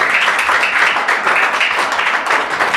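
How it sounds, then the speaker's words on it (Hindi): Loud, continuous applause from a studio audience on a televised quiz show, a full steady roar of clapping filling the whole stretch without speech. "जोरदार तालियां हो जाए एक बार।"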